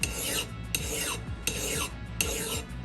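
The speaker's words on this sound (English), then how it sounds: "Kind of just filing at a 45-degree angle" A hand file sharpens the bit of a 4lb Tasmanian pattern axe in four distinct rasping strokes with short pauses between, loud and close, with no voices.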